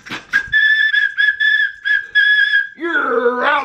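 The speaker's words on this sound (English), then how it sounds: "the baseball whistle." A baseball-style whistle blown in a series of short, loud, shrill blasts with a steady pitch, followed by a longer warbling trill near the end, with no talking.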